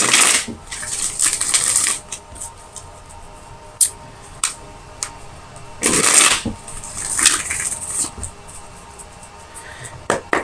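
Tarot cards are shuffled close by in quick riffling bursts, with crisp papery flutters and taps broken by short pauses.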